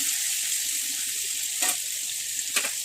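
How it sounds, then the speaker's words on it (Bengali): Cut potatoes frying in hot oil with tempering spices, a steady close hiss of sizzling with two short louder crackles near the end. "দিয়ে এর মধ্যে কেটে রাখা আলুগুলো দিয়ে দেবো। দিয়ে এবার সুন্দর করে এটাকে ভেজে নেব"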